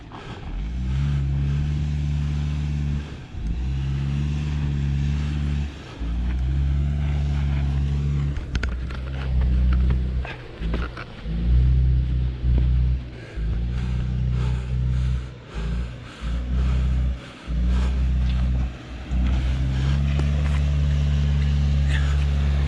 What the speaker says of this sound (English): Here's a 2018 plus Subaru Crosstrek.